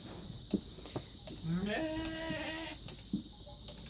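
A sheep that has just given birth to twins bleats in a long wavering call from a farm pen, with other faint animal sounds and a steady background hum around it.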